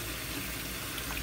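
Water running steadily from a tap while a lace frontal wig is being washed, a constant close hiss and splash with no pauses.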